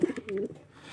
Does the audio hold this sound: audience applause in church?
no